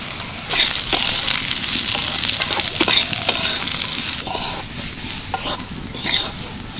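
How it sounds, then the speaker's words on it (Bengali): Mung dal fries in a little white oil in a wok, sizzling steadily while a spatula stirs and scrapes it in repeated bursts, close and fairly loud. "ডাল আমি বেশ ভালো করে ভেজে নিলাম।"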